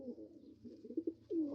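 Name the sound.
pigeons cooing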